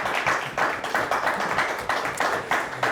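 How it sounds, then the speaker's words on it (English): A studio audience gives a round of applause for two teams at the close of a Quiz Central quiz match, with rhythmic, fairly close clapping from a small group. "Let's give them both a nice round of applause."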